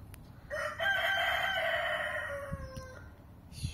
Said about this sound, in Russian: Все, петух разорался.